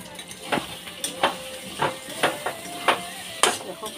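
Mutton with pistachios is stirred and fried in a pan. A spoon scrapes in a steady rhythm over a soft sizzle.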